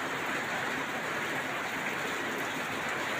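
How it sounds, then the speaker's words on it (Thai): Steady rain falls in Somdet district, Kalasin, Thailand, with an even, unbroken hiss, moderately loud and close, with no talking over it. "เขตกาลสินสมเด็จนี่ฝนตกครับพี่น้อง"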